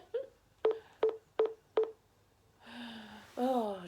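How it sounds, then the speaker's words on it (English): A laptop beeps five times in a short, evenly spaced run of clear tones, and then a longer wavering electronic tone follows. "my laptop's decided it's going to start booting at me"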